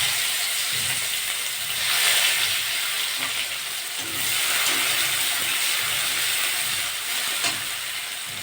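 Onions added to hot oil after cumin has been tempered, while cooking a fish curry: a continuous loud hissing sizzle with gentle swells and occasional stirring scrapes, close and with no voices.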